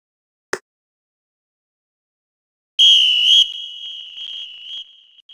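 A cartoonish underwater whistle from The Magic School Bus video game: a short click, a pause, then a loud, sustained high whistle that holds steady and trails off with an echoing tail.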